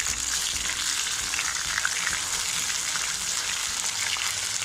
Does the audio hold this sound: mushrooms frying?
yes